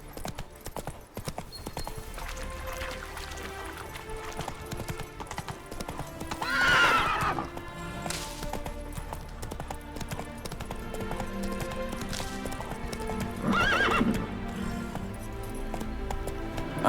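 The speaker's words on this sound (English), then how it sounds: "Spooking my horse. Roach doesn't like ghosts." Horse hooves clip-clop at a steady run in The Witcher 3 video game, with two loud neighs breaking out over the music-laden game soundtrack.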